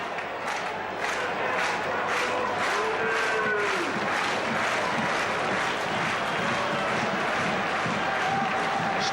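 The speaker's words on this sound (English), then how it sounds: "Slow hand clap coming for Alan Stevenson." A large 1975 football crowd at QPR versus Burnley keeps up rhythmic slow hand clapping that pulses through a constant roar of stadium noise, with distant shouts rising over it.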